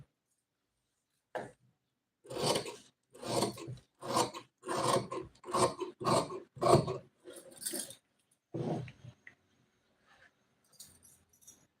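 Sharp scissors cutting silk fabric for a blouse: about ten crisp snipping bursts in a steady run, close and fairly quiet, then a few fainter snips trailing off.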